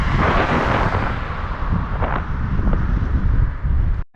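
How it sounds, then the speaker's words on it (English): Strong wind before a storm buffets a microphone during a bike ride along a highway, a loud continuous roaring rumble that eases slightly midway and cuts out abruptly near the end. "It's getting windy."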